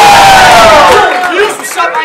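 A large crowd at a rap battle event in Toronto roars, whoops and cheers loudly and close up, the excited shouting slowly tapering off over two seconds.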